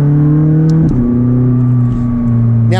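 A McLaren 600LT engine drones loudly from inside the cabin, with a clear gear shift that drops the engine pitch before it holds steady again and a brief rise at the end.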